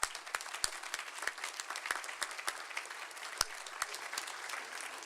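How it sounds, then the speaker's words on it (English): A dinner audience applauds a guest, with fairly quiet, sustained clapping that includes a few sharper individual claps, heard from a moderate distance. "Let's give him another round of applause"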